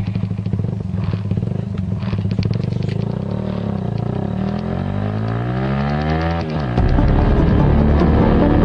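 A motorcycle passes close by, its engine note climbing and then sliding down as it goes, loud and clattering, followed by a rumbling noise from another engine and no speech.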